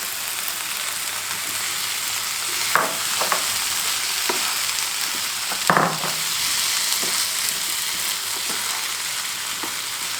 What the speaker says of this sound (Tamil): இப்போ தக்காளி கொஞ்சம் வதங்கின பிறகு நம்ம கத்திரிக்காயையும் போட்டு வதக்குறோம்